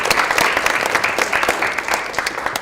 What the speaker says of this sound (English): So a big round of applause for Jasmine and Julia.